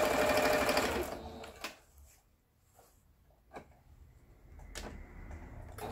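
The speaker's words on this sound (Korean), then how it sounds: "지그재그 바느질이요." A Singer 7466 home sewing machine stitches zigzag in a loud burst, then stops. Faint clicks and small knocks follow in near quiet before the motor hum creeps back in.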